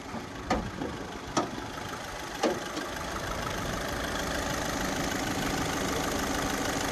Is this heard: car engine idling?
yes